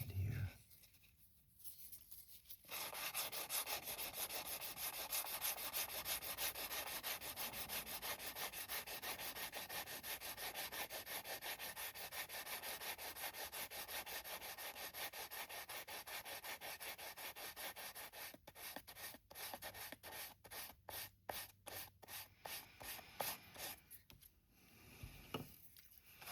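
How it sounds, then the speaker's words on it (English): Hand sanding a small wooden trifold pocket piece, a continuous scratchy rubbing that runs for most of the stretch and turns into short rhythmic back-and-forth strokes near the end. "Give this a little sand here"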